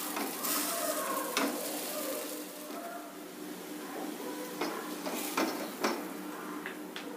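Spinach handvo, a savory batter cake, sizzles steadily in a pan with a constant close frying hiss and a few small clicks and taps over it, with no talking.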